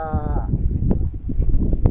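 Sheep bleat in a semi-free-range pen, one wavering harmonic call near the start rising over a busy barnyard background of shuffling and other animal noise, fairly close.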